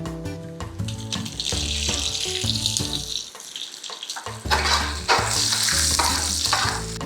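Garlic and chilies sizzle steadily in hot oil for a dal tadka, a bright crackling fry heard close over a background of chords and an occasional stir.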